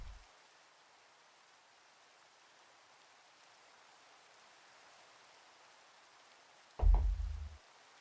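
Steady rain falls at night in Minecraft, a soft even hiss running throughout, broken near the end by one brief low thump.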